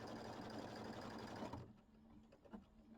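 A sewing machine quilts a mini quilt, running steadily with a rapid mechanical whir for about a second and a half. It then stops, leaving faint handling clicks and rustles.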